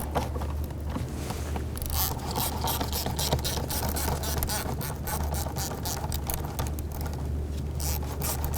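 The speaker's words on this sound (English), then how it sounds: "Using an 8 millimeter socket, we're going to go ahead and loosen this hose clamp here" Ratchet with an 8 mm socket loosening a hose clamp while replacing the alternator on a 2004-2009 Dodge Durango, rapid repeated clicking bursts up close over a steady low hum.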